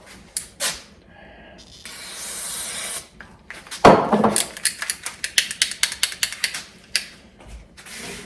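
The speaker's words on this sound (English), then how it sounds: "I take some degreaser and I spray it inside the actual shifter itself" Degreaser is sprayed inside the shifter of a 2004 Trek 1500 bicycle: a couple of short sharp bursts, then a sustained hissing spray, followed by a rapid series of clicking, rubbing strokes, close and loud.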